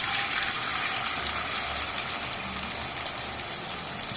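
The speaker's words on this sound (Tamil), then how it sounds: "உங்களுக்கு தண்ணியை நல்லா வடிகட்டிடுவோம்" Water gushing and draining through a strainer while preparing American chicken chop suey, a steady broadband rushing that runs unbroken and fairly loud the whole time, with no talk.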